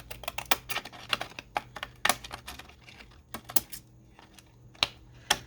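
Small craft scissors trimming paper while making an envelope produce a quick, irregular series of crisp snips and clicks, close and dry, with no speech.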